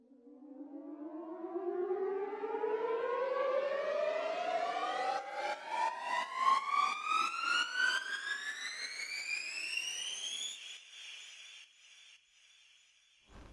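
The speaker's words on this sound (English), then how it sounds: "I've got an additional riser, which is quite a bit longer" A long synth riser with ping-pong delay and reverb for a drum and bass track, a bright tone sweeping steadily upward for about ten seconds with stuttering echoes, then cutting to a fading reverb tail.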